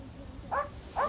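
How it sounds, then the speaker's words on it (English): A dog, separated from its owner, gives two short barks about half a second apart, moderately near, over a quiet low background hum. "now, being separated from Mick, he was barking like crazy."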